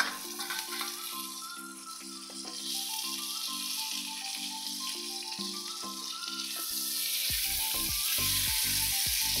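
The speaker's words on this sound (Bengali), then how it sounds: "তারপর টমেটোগুলি একটু ভেজে তারপর মশলাটা দিয়ে দেবো।" Tomatoes fry in a pan over a tempering of cumin and dried red chilli, a continuous soft sizzling hiss that grows fuller toward the end, with music playing in the background.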